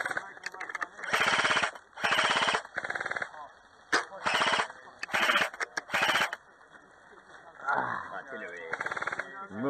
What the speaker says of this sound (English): I've at least fired some shots at Anger and Appy.